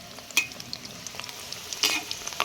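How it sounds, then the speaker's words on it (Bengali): Beetroot pakoras sizzle steadily in a pan of hot oil as they are turned over. A few sharper clinks and bursts of crackling stand out above the frying, and no one speaks. "ভালো করে আমি একদিক ভেজে নিয়েছি, এবার আমি উল্টিয়ে দেবো।"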